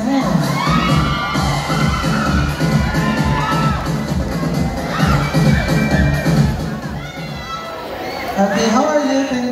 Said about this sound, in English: How's the feeling having that very loud crowd and yell for you?